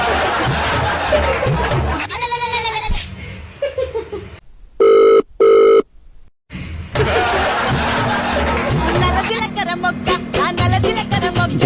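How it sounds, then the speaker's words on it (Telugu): A telephone gives two short, loud electronic rings in quick succession, set between stretches of lively chatter and background voices. "ఎవడు వీడు ఇప్పుడు ఫోన్ చేస్తున్నాడు వెధవా?"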